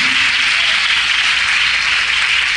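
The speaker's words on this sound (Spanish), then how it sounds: "Dele un aplauso a Jesús" Congregation applauding at a Spanish-language Pentecostal church service in Venezuela, a dense, steady wash of many hands clapping at once, loud and continuous without a break or any talk.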